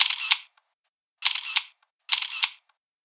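Camera shutter clicks from a photo app, three separate bursts of crisp mechanical clatter spaced about a second apart, each ending with a faint tick, close and clear with silence between them.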